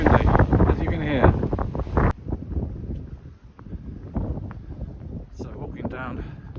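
Strong gusts of wind on a coastal clifftop walk buffet the microphone in loud, low rumbling bursts that ease off after a couple of seconds into lighter, uneven blustering.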